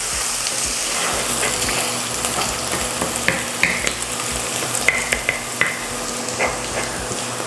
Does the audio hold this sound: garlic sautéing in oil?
yes